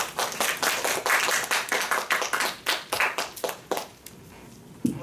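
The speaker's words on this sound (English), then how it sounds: "let's give a big applause to Forster." Audience clapping for a speaker at a prepared-speech session, a close, fairly loud burst of hand claps that thins out toward the end with a few scattered final claps.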